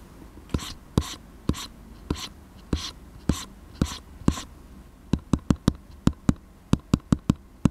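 A Huion PW517 pen fitted with a plastic nib writes on a drawing tablet, making a steady run of soft, dry strokes that turn into faster, sharper taps toward the end, close and clear in a quiet room.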